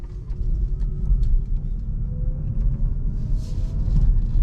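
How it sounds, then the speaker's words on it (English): KIA e-Niro electric car driving at night, heard from inside as a steady low road rumble with faint tyre hiss, no voices. "we are going on a relaxed night drive with this fully electric car."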